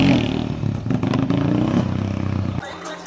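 A motorcycle ridden hard, its engine revving loudly and roughly up close for a couple of seconds before cutting out, with voices mixed in.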